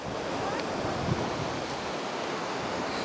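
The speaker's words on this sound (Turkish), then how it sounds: "Bakın hala şurada su akıyor." Mineral-rich water flowing over the white Pamukkale travertine terraces, a steady broadband rushing wash that stays even and continuous, fairly close, with some wind noise and no speech.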